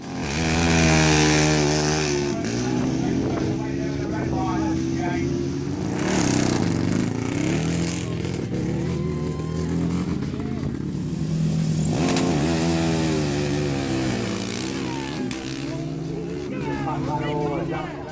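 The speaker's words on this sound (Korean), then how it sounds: "레이싱 휠, 특수 타이어, 사행정 500cc 엔진을 추가했죠" A homemade racing mail van fitted with racing wheels, special tyres and a 500cc four-stroke engine drones loudly and steadily, rising and falling in revs throughout, with a voice talking over it.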